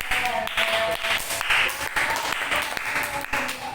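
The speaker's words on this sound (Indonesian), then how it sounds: "Oke, tepuk tangan untuk kelompok 3." Classroom applause for a student group, many hands clapping with distinct sharp claps standing out and some faint voices mixed in.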